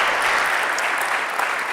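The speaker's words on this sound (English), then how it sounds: "Round of applause for Psicólogo." An audience at a startup challenge final gala claps in a steady, dense burst of applause filling the hall, with no voices on top.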